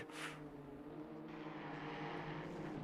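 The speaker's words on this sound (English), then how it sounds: "Me when I get my drone out on a track day." Steady propeller-like engine drone from an aircraft-type source, continuous and moderately loud across the whole stretch with no talking, fitting a drone flown over a race track during a Snetterton track day in a sim racing session.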